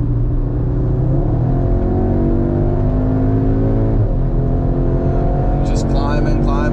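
A car fitted with a Racingline PCM tune accelerates hard through the gears on a highway pull, its engine droning in a rising pitch with a shift partway through, heard from inside under a passenger's talk.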